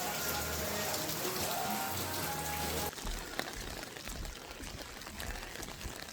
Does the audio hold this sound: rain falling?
yes